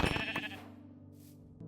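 A Minecraft sheep gives a single short, loud bleat up close, which fades into quiet game background.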